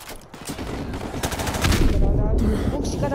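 Sustained machine gun fire from a tank-mounted gun in Call of Duty: Modern Warfare Remastered, dense rapid bursts with a few heavier shots mixed in, loud and close throughout.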